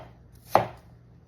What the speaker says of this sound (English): And next we're just gonna cut our shallot.